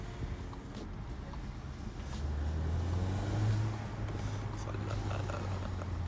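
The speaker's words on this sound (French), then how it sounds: "on fait chauffer la voiture, tranquillement" A Cupra Ateca 300 hp SUV idles as its engine warms up, a low steady hum that rises slightly partway through and sits close against faint background noise.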